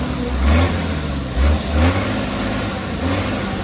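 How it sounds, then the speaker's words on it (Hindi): A 1965 Tata D Model truck's engine runs near at hand, a low rumbling idle broken by a few short, deep revs. "यहाँ पर मैं आपको आवाज सुनाता हूँ"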